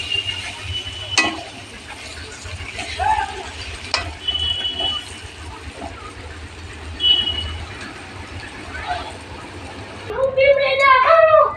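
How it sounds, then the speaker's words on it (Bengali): Mutton and fried potatoes sizzle and get stirred in a pan, a low steady frying with intermittent scraping clatter, while a person talks over it and a bird chirps near the end. "আর দুই মিনিট ভেজে নিয়ে প্রেশার কুকারের ভেতরে দিয়ে দেবো"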